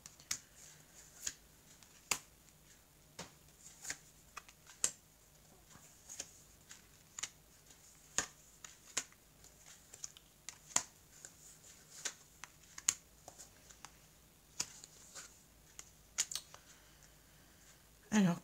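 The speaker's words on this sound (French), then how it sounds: "Alors, je vais étaler les cartes ici." Tarot cards spread out on a table, giving many small, sharp clicks and snaps at an irregular pace, close up and quiet, with a faint steady hum underneath.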